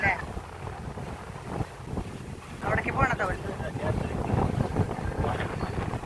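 A passenger ferry crosses the Vaikom backwaters toward Thavanakkadavu in Kerala, its engine rumbling steadily beneath strong wind buffeting the microphone, with water sloshing and voices faintly in the background.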